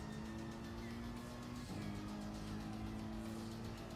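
Mercedes AMG Group 3 race car in Gran Turismo Sport, its engine a steady loud drone throughout with a brief dip in pitch midway as the driver lifts off, then resumes, with faint tire noise underneath.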